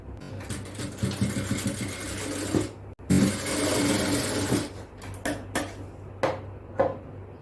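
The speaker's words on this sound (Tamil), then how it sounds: "இப்ப நாம இதுல ஒரு தையல் தைக்கலாம்" Sewing machine stitching the hem of a child's frock, running in bursts with a steady mechanical whirr and needle clatter, briefly stopping and restarting, then ending in short separate runs.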